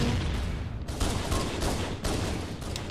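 Rapid gunfire from the Halo video game, with dense overlapping bursts of shots that keep up a loud, continuous fusillade from start to finish and carry no talk.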